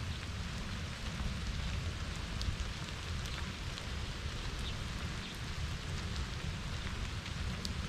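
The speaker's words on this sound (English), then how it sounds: "I just love the sound of the rain." Steady rain pours at a lakeside state park campground in Wisconsin, a dense, even hiss of drops pattering on surfaces nearby, continuous and unbroken with no talking.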